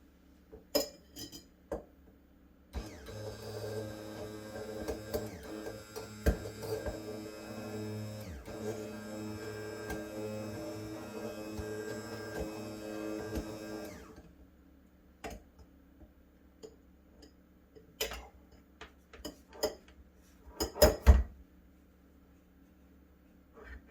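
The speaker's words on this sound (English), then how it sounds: "We're only using the egg yolk. We're going to give that a quick little mix first." Egg yolk being mixed in a jar with a utensil, a close run of soft scraping and clinking that lasts about ten seconds, followed by scattered clinks against the glass.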